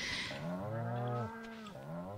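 Cattle mooing in the Stardew Valley farming video game, a long, loud, sliding harmonic moo followed by a second shorter moo, clear and close with no talking over it.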